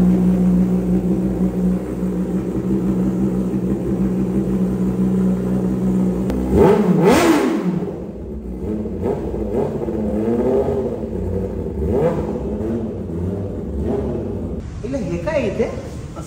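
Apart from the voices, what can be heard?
motorcycle with new exhaust revving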